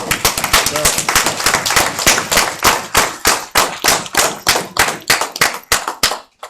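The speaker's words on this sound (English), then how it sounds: "Let's get a Most High and a Mashiach a great round of applause." A congregation at a religious gathering claps loudly in a fast, irregular rhythm, a close and sharp round of applause that fades out at the end.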